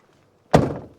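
A camper van door shuts with one solid, close thunk that rings briefly and fades, heard alone.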